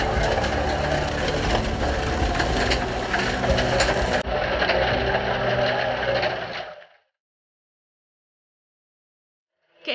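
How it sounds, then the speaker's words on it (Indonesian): A rotating drum mill grinds gold ore with iron balls inside, giving a loud, steady churning and rattling roar. It drops away after about seven seconds, leaving silence. "Mesin kemudian dibiarkan berputar seharian penuh."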